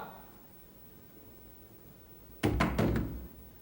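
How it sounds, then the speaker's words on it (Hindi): Knocking on a door indoors: three quick, heavy thuds in a tight burst near the end, close and loud after a quiet stretch. "नेहा बेटे दरवाजा खोलो।"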